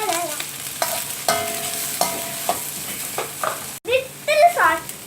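Chopped onion frying with cumin seeds in a pan makes a soft, close sizzle, broken by a few stirring knocks and scrapes, with some tonal background sounds mixed in.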